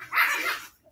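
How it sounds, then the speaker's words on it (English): One puppy lets out a short, sharp bark while playing and scuffling with its littermates, close by and loud, lasting under a second. "my puppies playing and fighting"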